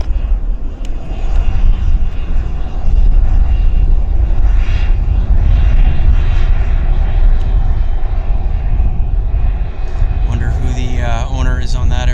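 A NetJets jet at Vancouver Airport roars loudly and steadily, its engine noise close and continuous; a voice starts talking near the end.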